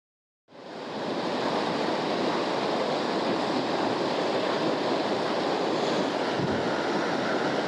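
Clear Himalayan stream water fed from Parvati Sarovar rushes steadily, a dense, continuous roar starting abruptly and holding at an even level with no voices.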